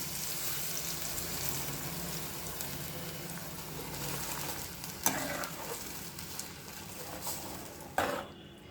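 Yogurt blended smooth for ghattakadi is poured into a pan of fried vegetables, giving a steady low sizzle and bubbling with faint stirring scrapes, a couple of brief louder clinks near the end.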